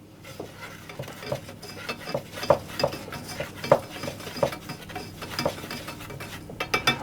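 A spoon stirs flour and salt around a saucepan, repeated scraping and light clinks against the metal in a steady rhythm, close and alone.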